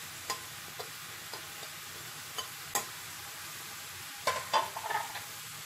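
Thinly sliced chicken fries quietly in a pan, with a faint low hiss throughout and scattered light taps of the stirring utensil that cluster into a short burst of scraping near the end.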